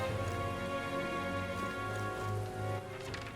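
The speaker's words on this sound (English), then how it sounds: "It is raining and storming." Rain falls steadily in a storm scene from the game Metaphor: ReFantazio, a soft continuous patter under a layer of sustained background music tones, faint and even throughout.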